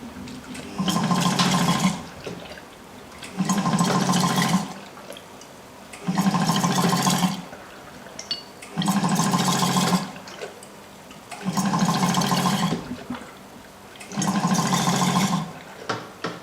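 Agar growth medium poured into bottles, about 50 milliliters each, heard as six evenly spaced gurgling pours of roughly two seconds each, separated by short quiet pauses, close and clear.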